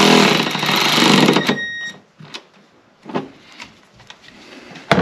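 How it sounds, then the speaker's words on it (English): A 10 mm bolt is tightened on a Toyota Tacoma: a loud mechanical whirring burst, then scattered clicks and clunks of tool work. "we're gonna tighten this 10 millimeter bolt back down"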